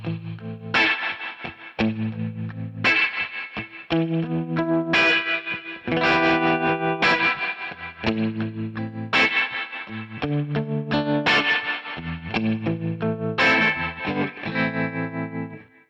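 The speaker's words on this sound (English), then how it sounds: "With slapback echo." Electric guitar through a Kemper profiler with spring reverb and slapback echo, playing a rockabilly riff in repeated choppy phrases; each note is doubled by a quick echo with a short reverb tail, steady and loud, with no talking.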